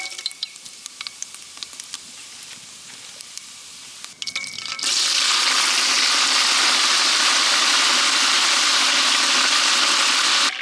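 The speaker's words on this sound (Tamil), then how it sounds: "பட்டை, கிராம்பு, சோம்பு, கடுகு, கருப்புலாம் போட்டு தாளிச்சிட்ருக்கோம்" Mustard seeds, cinnamon, cloves and fennel dropped into hot oil for a village-style mutton curry. Faint ticks and clinks give way to a sudden, loud, steady sizzle that continues close and unbroken to the end.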